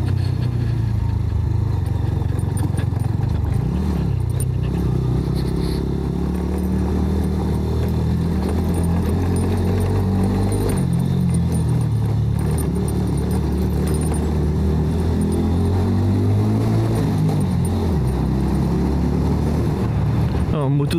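A motorcycle engine drones steadily while riding over cobblestones in Honfleur, with low rumbling and rattling throughout and occasional rising revs.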